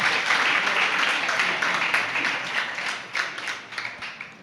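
An audience claps at a religious sermon, steady dense applause that thins and fades toward the end.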